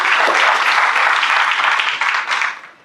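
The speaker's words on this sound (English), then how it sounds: "I actually would say a round of applause for Ruby for that" A burst of audience applause for Ruby, loud and close at first, clapping steadily and then thinning out and fading toward the end.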